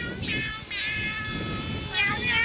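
A cat meows a few times in quick succession, close and fairly loud, over a low background hum and someone talking playfully to it.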